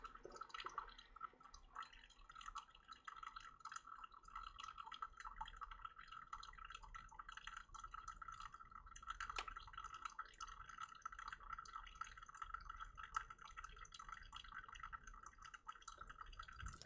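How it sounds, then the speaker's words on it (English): Water pouring steadily into a cup while coffee brews, a faint, continuous trickle with a soft ringing tone that runs unbroken for the whole stretch, no talking. "I just love the sound of the water just pouring into the cup"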